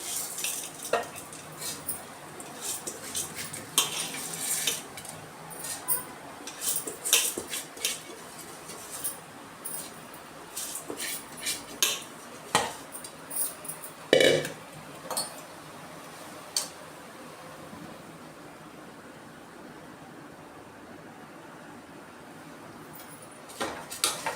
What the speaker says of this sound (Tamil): இப்போ நம்ம பிரியாணி அரிசியை சேர்க்க போகிறோம்.